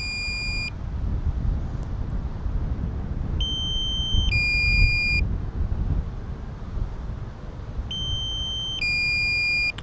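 A drone flying over Morden in London gives low-battery warning beeps: repeated short pairs of high electronic tones in three spaced bursts, loud and clear above steady rotor and wind noise.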